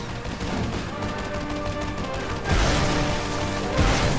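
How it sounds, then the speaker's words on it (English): Gunfire in the video game Fracture, a dense sustained burst of shots that grows louder and harsher midway, with a heavy impact near the end and no talking. "Use your entrencher to shield him from the gunfire."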